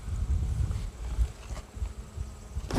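Honeybees buzz at an open beehive in a hobby apiary, a close, continuous low drone that swells and dips with a brief rustle near the end.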